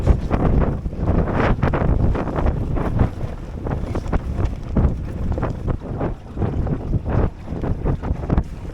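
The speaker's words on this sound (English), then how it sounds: "We're now tacking, we are beating now." Drascombe Lugger sailboat tacking and beating into the wind, heavy gusting wind buffeting the microphone with surges of water rushing along the hull, loud and continuous, no talking.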